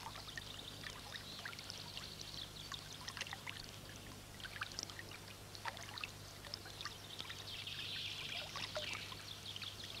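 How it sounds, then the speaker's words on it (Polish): A small stream trickles over stones among hills in the Augustów Forest, the source of the Czarna Hańcza, a faint continuous babbling with light splashes and a low steady hum beneath. "z trudem przeciska się pomiędzy wzgórzami, sączy po kamieniach, ginie gdzieś w bagnach"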